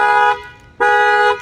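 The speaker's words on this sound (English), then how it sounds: "it's gonna trip the factory alarm as well" An Infiniti Q60's factory car alarm blares in two loud, harmonic horn blasts with a short gap between them, close and piercing.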